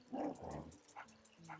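A dog in Luigi's Mansion gives one or two short barks followed by a few fainter yips, quiet and fairly close.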